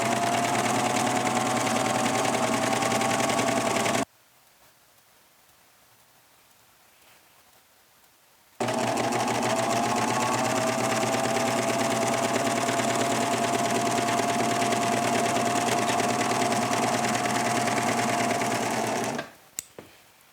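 An electric sewing machine stitches along a fabric edge with a fast, steady whirring hum, pausing for about four seconds before running on again and stopping near the end, close and loud.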